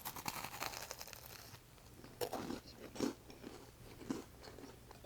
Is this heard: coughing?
no